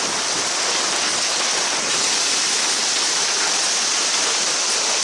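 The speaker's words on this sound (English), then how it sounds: "That's good size hail too." Large hail pounds down during a micro-burst storm on Lake Lanier, Georgia, a dense, loud, unbroken hiss of impacts that fills the whole scene without letup.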